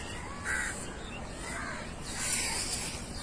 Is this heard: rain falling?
no